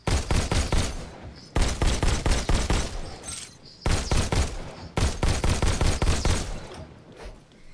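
Pistol fire in the VR shooter Robo Recall: rapid strings of sharp, loud shots in four clustered bursts separated by brief pauses, close and alone without talk.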